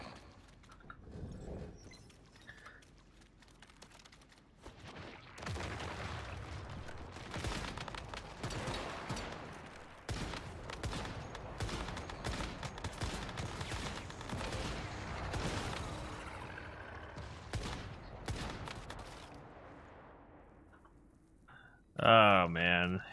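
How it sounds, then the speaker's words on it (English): A Mini BFG firing in the game Once Human produces scattered bursts of rapid shots and impacts at moderate volume, mixed with talking and other game sounds, ending in a short loud electronic blast. "Mini BFG, so is this a regular fucking gun?"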